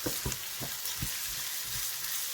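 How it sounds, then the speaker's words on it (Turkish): Rice sautés in an AMC pot as a dry, steady sizzle fills the background, with a few soft stirring scrapes and knocks near the start, close and moderately loud. "Şimdi pilavımı güzelce kavuracağım."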